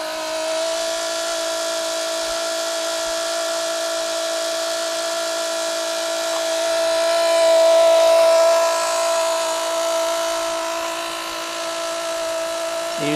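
FlowJet macerator pump running steadily on a Camco Rhino sewer tote, a continuous whining motor hum with a steady tonal drone that swells slightly midway, heard alone at moderate loudness.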